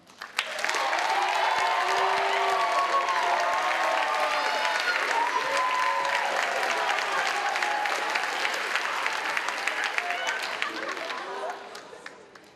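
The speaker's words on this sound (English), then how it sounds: "let's have thunderous applause for Zach Stump" Sustained applause from a school band festival audience fills the room, dense and continuous for about twelve seconds before tapering off, with some crowd voices mixed in.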